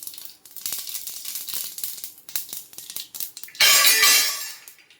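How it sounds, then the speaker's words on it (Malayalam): Rapid crackling and popping of mustard seeds in hot oil, sharp irregular bursts building into a loud dense spatter near the end. "കടുക് പൊട്ടാൻ തുടങ്ങി."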